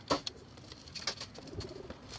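Pigeons coo softly from a loft, a few low, brief calls with light wing and bird sounds, fairly faint and close.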